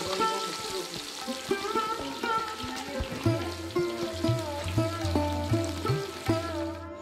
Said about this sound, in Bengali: ইলিশ মাছ ভাজা শুরু হয়েছে